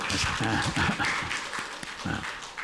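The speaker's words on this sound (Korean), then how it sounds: "박수 한번 주세요." A congregation gives a round of applause during a church service, a steady wash of clapping with some faint background noise throughout.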